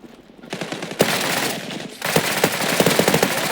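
An AK rifle fires long automatic bursts in the online shooter Zula, loud and close. A brief pause splits the rapid-fire rattling, which then resumes without letup.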